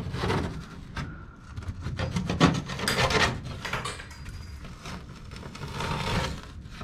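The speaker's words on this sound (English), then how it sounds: "Just cut this little bit of insulation out." Knife cutting out a small piece of insulation during an HVAC service call on a central air conditioner, a close, steady scraping and rasping that runs continuously with short bursts.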